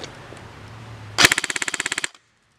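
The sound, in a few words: KWA Kr12 airsoft gun firing short full-auto burst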